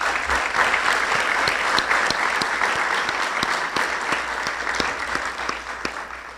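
Sustained applause from a crowd at a Town of Miami Lakes event, honoring sponsors; dense, steady clapping fills the whole stretch at an even, fairly loud level with no talk over it.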